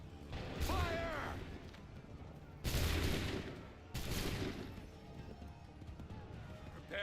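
Musket volleys fired by ranks of soldiers in Assassin's Creed III, three loud crackling bursts a second or so apart, each trailing off into rumbling battle noise, with a shouted voice over the first.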